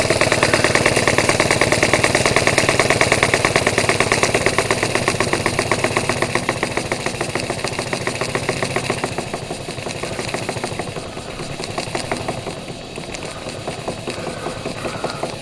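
A small oscillating steam engine on test, with a pulley meant to drive a dynamo, chuffs at a fast, even rhythm, loud and close at first and then easing slightly toward the end.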